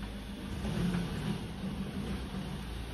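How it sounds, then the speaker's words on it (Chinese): A used car with just over ten thousand kilometres runs at a steady, even hum, faint and continuous, with no talk over it. "这发动机声音"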